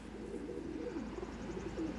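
Kaldom pigeons cooing at close range, a steady run of soft low warbling coos over a constant background hum.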